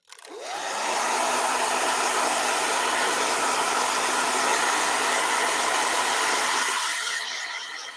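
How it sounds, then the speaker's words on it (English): A blow dryer switches on, runs as a loud, steady whooshing hiss for about seven seconds, then cuts off. It sounds close by and no one talks over it. "Fiction. Blow dryer."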